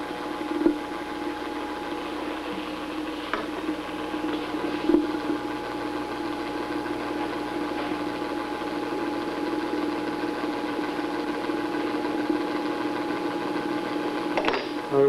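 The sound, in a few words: vacuum pump running on lab system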